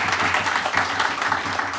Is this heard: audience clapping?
yes